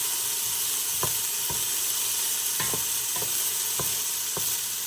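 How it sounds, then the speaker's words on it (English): Vegetables sizzle steadily in a pot on an electric stove, a constant hiss broken by occasional clicks and taps of stirring. "Sizzling nicely."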